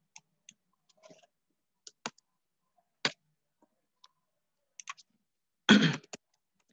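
Sparse, sharp computer key clicks from pressing Enter while drafting in CAD software, single taps and short pairs spread irregularly, with one louder, fuller keystroke near the end; quiet and close, no talking.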